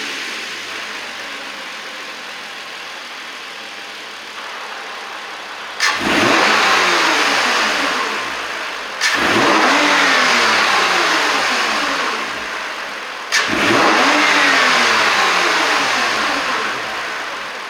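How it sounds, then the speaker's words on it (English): A stock 2018-2023 Toyota Camry V6 revs up three times, each loud, close blip of the engine rising sharply and then sliding back down toward idle, with no talk over it. "point it at the car, rev it up a little bit,"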